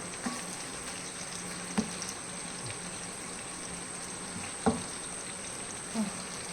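Hot oil bubbling in a pan on a gas stove while making fish pickle: a faint, steady sizzle broken by a few soft pops and clinks.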